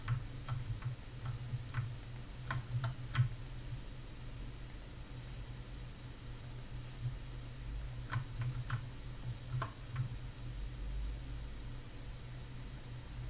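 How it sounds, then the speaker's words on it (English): Sparse bursts of clicks from a mechanical computer keyboard during 3D modelling work in Blender, quiet key taps in small clusters over a low steady hum. "I have a mechanical keyboard, which you kinda probably can hear."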